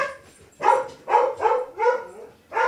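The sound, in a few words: dog barking frantically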